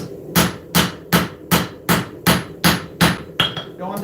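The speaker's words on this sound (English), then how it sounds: "Now I'm using the flat side of this hammer." Flat face of a hammer forging a knife blade, nine sharp evenly spaced ringing strikes on metal at a steady rhythm, close and loud, with the last blow trailing into a faint scrape.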